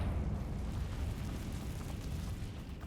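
A Confringo fire spell bursts in Hogwarts Legacy, heard as a dense, rumbling explosion roar of about three seconds that stays loud and low throughout and slowly fades a little toward the end, with no talk over it.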